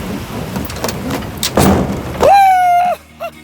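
Heavy rain pours down during stormy weather at a camping spot, a loud, dense roar broken by thumping bursts, then a sustained tonal whine cuts in near the end.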